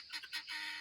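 Several short honks from geese in a backyard aviary, three quick calls followed by a longer sustained one, fairly faint and somewhat distant, with no talking.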